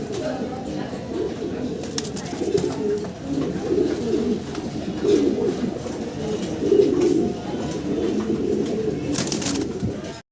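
A pair of Andalusian-coloured fancy pigeons, a male and a female, coo softly in low repeated calls, with someone talking over them.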